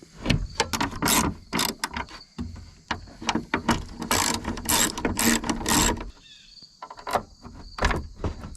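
A ratchet wrench clicks in quick bursts while bolts are driven down on an engine bay part of a Nissan 300ZX, loud and close, with brief pauses between runs of clicks and no talking.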